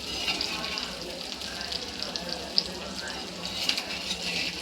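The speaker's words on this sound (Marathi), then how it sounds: "बघा छान अशी मच्छी फ्राय झाली आहे." Fish fries in a pan as a steady, fairly close sizzle with a few brief pops and crackles.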